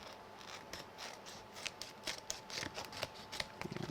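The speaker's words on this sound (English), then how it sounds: "I'm going to trim it" Scissors trim a sheet of acetate along its edge at a craft table, giving a run of quiet, close, crisp snipping cuts that quicken toward the end, with no talking.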